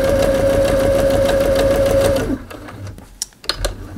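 A sewing machine runs a row of long stitches at a steady, loud whirring hum for about two seconds, then stops, followed by a few soft handling clicks and rustles.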